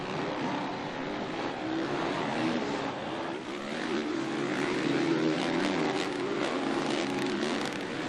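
Motocross bikes, including a factory Honda HRC machine, race at the MXGP of Argentina, a dense, continuous engine roar from several machines that swells and fades slightly as the pack passes.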